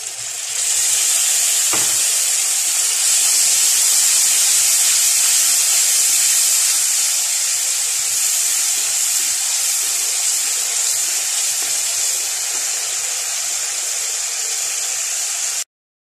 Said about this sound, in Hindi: इसमें पानी डालेंगे अब हम।